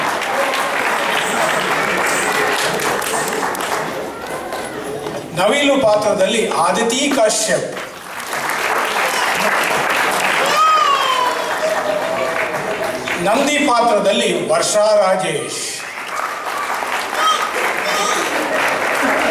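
An audience applauds the cast of a Ganesha skit at a Kannada community gathering: sustained clapping fills the room throughout, while an announcer speaks over it introducing performers.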